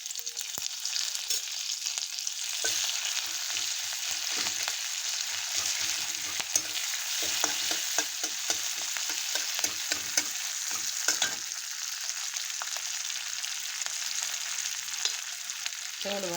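Mustard seeds, crushed garlic and green chili fry in hot oil with a steady, close sizzle, broken by scattered pops and crackles from the spluttering seeds and occasional stirring scrapes.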